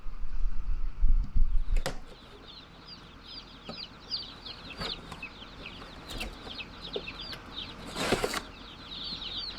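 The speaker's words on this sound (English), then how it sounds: "There they are. Look at all them babies. Baby chickens." Baby chicks mailed as a batch peep in a steady chorus of many overlapping high chirps, with a few louder flaps and bumps near the start and some clattering handling noise mid-clip, and nobody speaking.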